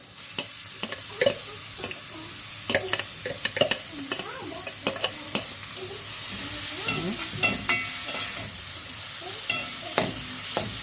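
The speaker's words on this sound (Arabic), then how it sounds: "ونرمي البصل بتاعنا اهو بعد ما ضربناه" Finely chopped onions frying in a pan over medium heat, a continuous sizzle with repeated scraping and stirring clatters from a utensil, close and fairly loud, growing hissier partway through, no voices.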